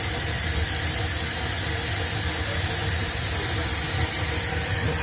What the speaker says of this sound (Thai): เครื่องดูดควัน